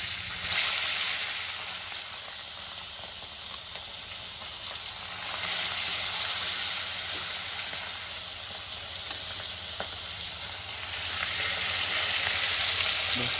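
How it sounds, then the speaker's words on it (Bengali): Katla fish pieces fry in hot oil, producing a loud, steady sizzle that swells and eases in long waves, heard up close with no talking. "বাকি মাছগুলো আমি সেম এভাবে লাল লাল করে ভেজে।"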